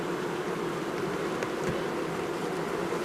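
Honey bees buzz inside a hive after being fed, a steady dense hum filling the whole short stretch at moderate level, close and continuous.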